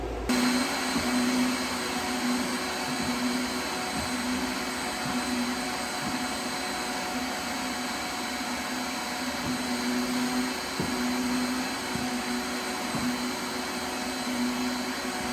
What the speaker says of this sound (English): we just got to get this room vacuumed up and cleaned out